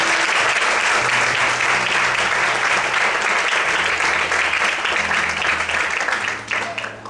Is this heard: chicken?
no